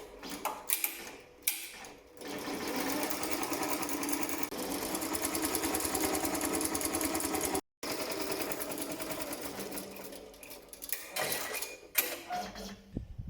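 A Rainbow embroidery machine runs a thread tension test, its needle stitching in a fast, steady mechanical rattle close by for most of the stretch, broken by a brief pause and ending in scattered clicks as it stops.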